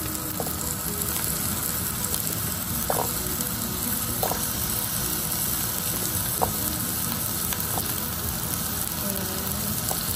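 Squash sizzling as it is stir-fried in a pan, a dense continuous hiss of frying with a few faint utensil clicks, close and steady throughout, with no speech.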